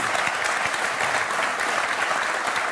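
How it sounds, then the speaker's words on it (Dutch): Audience at a Dutch television show applauding, a dense, steady burst of clapping that holds evenly throughout, loud and close with no talk over it. "Applaus,"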